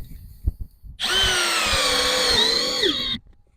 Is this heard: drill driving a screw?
yes